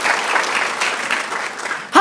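A church congregation applauds during a Sunday sermon, a steady, dense clapping that fills nearly two seconds before a voice cuts in abruptly at the end.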